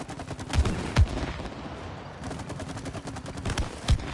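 Rapid bursts of gunfire, several sharp loud cracks and thumps spaced irregularly over a dense crackling rattle, close and continuous throughout.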